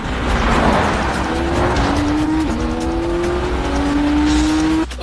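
Lotus and Alfa Romeo racing cars drive on a track, with loud, close engines revving and rising in pitch continuously, plus a faint tire squeal.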